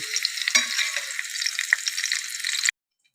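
Pointed gourd (potol) frying in hot oil gives a steady, close, bright sizzle with small crackles for under three seconds, then stops abruptly into silence.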